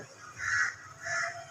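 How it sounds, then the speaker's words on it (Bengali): Crows call in the evening sky with two faint, distant caws a little over half a second apart, against quiet background noise. "কাক ডাকছে এখনও"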